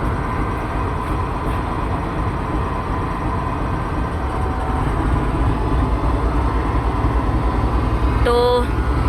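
Steady, loud rumble and rattle of the 47 Up Rehman Baba Express passenger train moving between Karachi Cantt and Multan Cantt, heard continuously from close by with faint voices under it.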